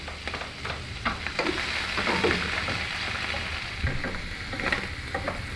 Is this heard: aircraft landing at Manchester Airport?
no